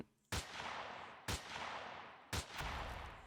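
Gunfire takes out turrets in the space survival game Empyrion Galactic Survival: three heavy, booming blasts about a second apart, each with a long, rumbling decay, loud and close, with no talking.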